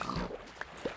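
Pigs grunting in the Minecraft video game, a few short oinks popping up over a steady background of game ambience, close and moderately loud.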